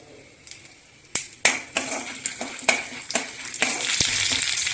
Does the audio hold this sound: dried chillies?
yes